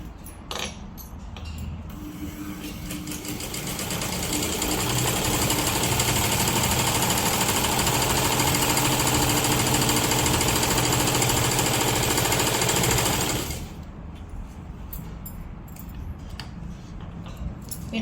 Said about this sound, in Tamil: இப்போ பார்ப்போம், ரெண்டாவது லைன் தைச்சு பார்ப்போம்.